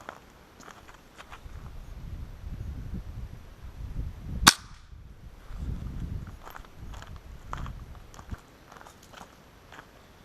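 A Hatsan 125 air rifle fires once, a single sharp crack standing alone against low background rustle and handling noise.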